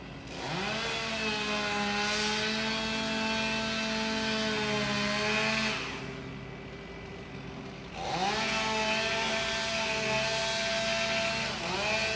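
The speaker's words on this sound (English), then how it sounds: "He's starting his chainsaw." A chainsaw revs high and cuts steadily through a 120-foot tree being removed with a crane, drops to a lower idle for a couple of seconds, then roars back up into cutting again.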